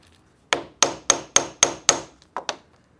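Hammer strikes on an anvil while a measuring belt is being made: six sharp, evenly spaced ringing blows, then two lighter taps, close and loud with no talk.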